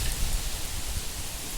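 Heavy rain with strong, gusting wind in an Odisha evening storm, a steady dense wash of broadband noise with low rumbling buffeting, continuous and fairly close, no voices.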